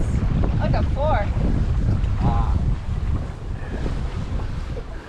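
Wind buffets the microphone aboard a sailboat on a beam reach, a loud, continuous low roar with water sloshing beneath it, and voices speak briefly under the gusts.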